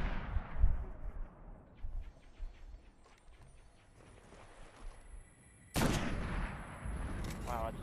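Enemy gunfire in Destiny, a sci-fi shooter, crackles as a ragged, fairly quiet stream of shots across the scene, then a loud burst of weapon fire and effects breaks out near the end.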